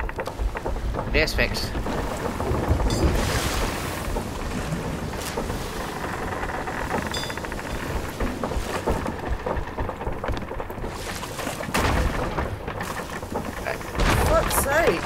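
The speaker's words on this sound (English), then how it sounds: "Yeah, we're in a storm." Stormy seas in Sea of Thieves, with steady rain and wind roaring over a creaking pirate ship, deep thunder rumbles rolling in at intervals, while players talk and shout over the din throughout.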